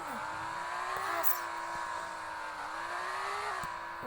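A taxi car in a Roblox driving game accelerates, its synthetic engine tone holding a steady pitch that dips and climbs slightly as it drives on, with a few short clicks and knocks over the drone.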